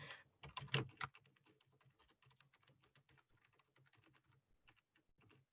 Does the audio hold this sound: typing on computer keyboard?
yes